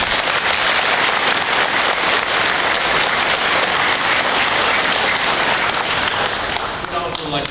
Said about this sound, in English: we want to thank them with a round of applause